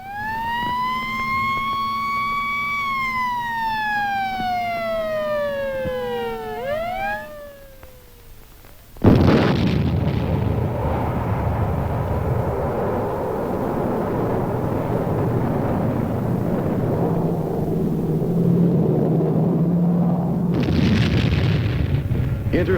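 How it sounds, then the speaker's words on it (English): A guided missile intercepting a target: a wailing siren-like tone rises and falls, then a sudden loud blast breaks into a long roaring rumble that stays heavy and sustained, with a second burst near the end. "Intercept accomplished by guided missiles."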